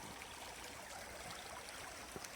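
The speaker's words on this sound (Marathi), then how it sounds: "ही चिल्हार नदी" The Chilhar river stream flows steadily along a mountain ghat trail, a faint, even rush of water continuing without pause.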